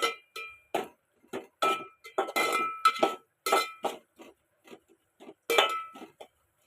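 Veg noodles being tossed and mixed with sauces in a pan, with a series of irregular metallic clinks and scrapes of a utensil against the pan, separated by short silences and nearby.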